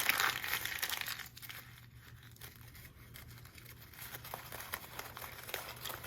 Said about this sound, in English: you're gonna crumple it up into a ball